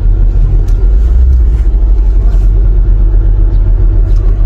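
A car engine rumbles loudly and steadily up close, with a continuous low drone that carries on throughout.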